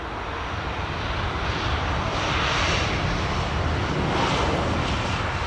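A fixed-wing airliner departs London Heathrow at sunset, its engine roar a broad, sustained rumble that swells gently and holds loud throughout, with no voices over it.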